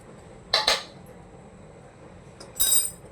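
Metal spoon clinking and scraping in a pan while roasted dry dates (kharik) are mixed with other ingredients for gond laddu: two short, bright clatters about two seconds apart over a quiet background, with no talking.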